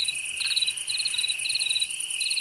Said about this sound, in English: I don't want to listen to crickets.